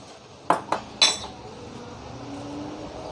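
Spiced cauliflower marinade with red chilli powder and black pepper being mixed in a bowl, heard as three quick clinks of a utensil against the bowl followed by quiet background.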